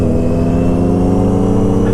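A Nissan GT-R R35 accelerating hard nearby, a steady loud engine roar with rich low harmonics holding throughout, no voices.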